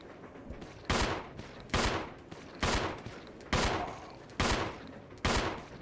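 Gunfire from the Resident Evil 0 video game: six loud, evenly spaced shots roughly one second apart, each a sharp broadband crack with a short decaying tail over a quiet game background.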